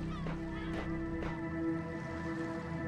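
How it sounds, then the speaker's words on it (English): Seabird calls in the video game The Talos Principle, a few short honking cries over steady ambient hum and lapping water, moderately distant. "Do I hear seagulls?"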